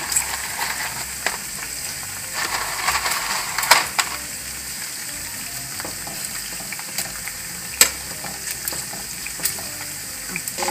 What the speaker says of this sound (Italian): Mentre soffrigge mettete un goccio di vino bianco e continuate a far soffriggere